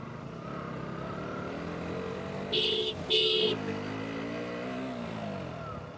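A vehicle engine accelerates on a countryside road while overtaking on the wrong side, its hum rising and swelling steadily over a few seconds, with two brief bright horn-like blasts cutting in midway.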